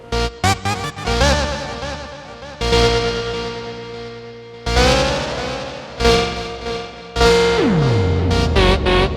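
Electric guitar through a Syntrx II pedal's delay effect, playing bursts of notes and chords, with echoes trailing after each phrase and a pitch-bending swoop near the end, loud and heavily effected.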